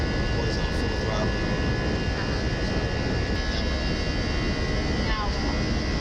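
Airliner jet engines at full takeoff throttle, heard from inside the cabin as a loud, steady, unbroken roar and rumble throughout.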